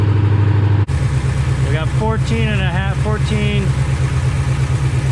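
A 1996 Ford Mustang engine idles steadily throughout, a continuous low rumble close by, with a voice briefly talking over it.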